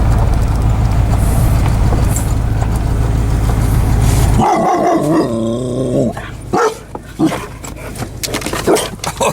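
A puppy barks and growls loudly and close by, with several sharp yips in the second half after a steady rumbling background.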